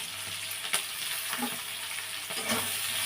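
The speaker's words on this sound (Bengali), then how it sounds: "সাদা তেলটা গরম করে নিয়েছি, তার মধ্যে দিয়ে দিচ্ছি ক্যাপসিকাম, পেঁয়াজ কুচি আর লঙ্কা কুচিটা।" Chopped capsicum, onion and green chili frying in hot white cooking oil, a soft sizzle with occasional stirring scrapes and clicks, faint and close, no voices.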